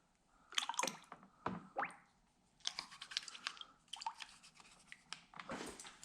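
Old Montgomery Ward tiller carburetor parts are rinsed in water, with close, quiet splashing, dripping and squishy sloshes in irregular bursts and no talking.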